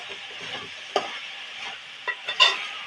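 Grated coconut is stirred into a jackfruit seed and drumstick leaf thoran in a pan. A spoon scrapes softly over a faint sizzle, and a few sharp clicks land against the pan, all close.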